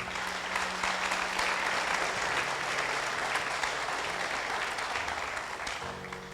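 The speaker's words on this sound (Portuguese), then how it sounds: "Dá uma salva de palmas ao Senhor." Sustained applause from a church congregation fills the space, dense clapping holding steady for several seconds before slowly thinning at the end.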